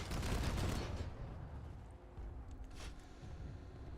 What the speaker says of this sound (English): Oh boy, I hear shooting.